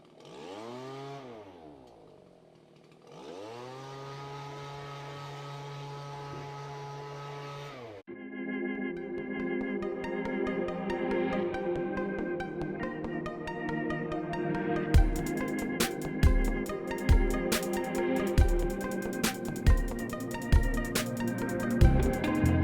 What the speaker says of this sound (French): à l'aide du souffleur thermique, on retire les dernières abeilles qui se trouvent dans la housse